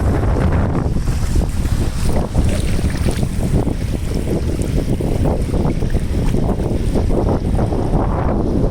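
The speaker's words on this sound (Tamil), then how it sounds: "இந்த அலை சத்தத்தை கேளுங்க" Sea waves wash continuously at a seaside spot, a dense roaring rush with heavy wind buffeting the microphone throughout, loud and steady with no voices.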